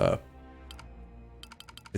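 Computer keyboard keys are tapped during play of the game Pathfinder: Wrath of the Righteous, with one quick click and then a rapid run of about six close, crisp keystrokes.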